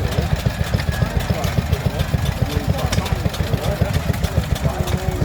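A stationary engine at a steam rally drives two saws and a bandsaw, its rapid steady low chugging beat running continuously close by with a faint whine above.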